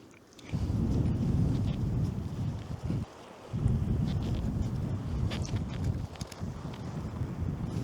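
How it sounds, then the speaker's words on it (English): Strong gusting wind buffets the microphone outdoors at night in Mandurah, a loud steady low roar with brief dips where the gusts ease, covering the whole stretch with no voices. "Wind's picked up a little bit just to make life a little bit more challenging."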